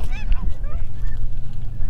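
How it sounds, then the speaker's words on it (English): Snow geese honk in flight during a hunt over a decoy spread, several overlapping calls at moderate distance above steady wind rumble. "Look at these geese."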